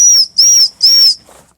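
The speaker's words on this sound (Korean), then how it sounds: "후크 자체가 호루라기인 게 또 있더라고" A safety whistle built into a backpack hook blown three times in quick succession, each a loud, piercing, shrill note close by, followed by a faint breathy trail.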